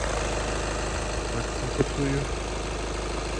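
A 2012 Skoda Superb 2.0 TDI diesel engine idles steadily with a low, even rumble, a faint clunk partway through and a voice murmuring in the background.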